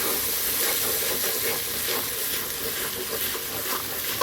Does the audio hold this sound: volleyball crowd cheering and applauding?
no